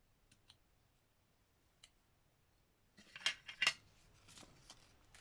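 Close, crisp scissor snips cut through transparent washi tape for a collage, starting as a few isolated clicks and then becoming a quick cluster of sharp cuts in the last two seconds.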